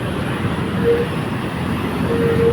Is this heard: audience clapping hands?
no